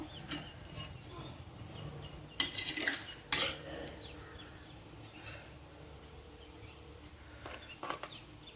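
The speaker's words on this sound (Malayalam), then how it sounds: "മീൻ കഷ്ണങ്ങൾ ഇട്ട് കൊടുക്കാം" Fish pieces going into a boiling curry soured with tamarind, with several close clinks and clatters of utensil against the pot over a faint simmering background; no one talks.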